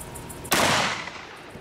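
A .44 Magnum revolver fires a single sharp, loud shot into a pumpkin outdoors, followed by a brief fading echo.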